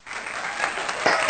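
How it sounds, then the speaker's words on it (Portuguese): Steady applause from a small group, continuous light clapping building slightly toward the end, with no voices. "palmas para mim, né?"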